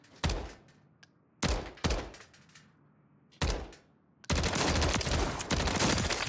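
Gunfire at shooting range targets in Warzone, a few loud separate shots with decaying tails, then a sustained burst of rapid automatic fire close up.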